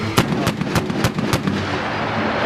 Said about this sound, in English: you can see the privates shooting 25 millimeter. Bushmaster and the M240 Charlie, otherwise known as the coax